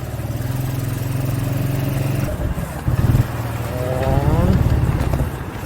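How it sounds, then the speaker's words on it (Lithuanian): A quad bike engine warming up after a cold start, idling with a steady low throb and brief revs that rise and fall, close and loud, with someone talking over it. "Pradžioj dar negalima daug gazuoti, reikia apšildyti"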